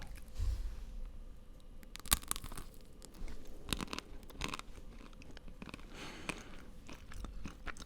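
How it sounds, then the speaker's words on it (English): Someone bites into and chews frozen Jaffa cakes right at the microphone, making sharp, crisp crunches. The crunches come in uneven bursts with quieter chewing between them, and no one speaks. "they have been put in the freezer for a little while. So, they are extra crunchy."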